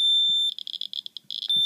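Shrill high-pitched alarm tone from a Titan Geiger counter set to trigger at 500 CPM near uranium and strontium-90 sources, sounding steadily, then pulsing in rapid beeps before returning to a continuous tone, loud and close with no talk.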